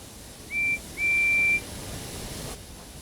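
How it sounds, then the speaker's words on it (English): A guard's whistle on a steam railway gives two clear, steady shrill blasts, a short one then a longer one, over a faint hiss of background noise. "the guard's whistle blew, and the two engines set off"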